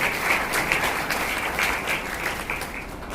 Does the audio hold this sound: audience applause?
yes